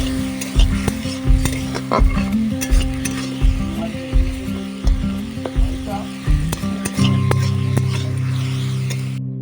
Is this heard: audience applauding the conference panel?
no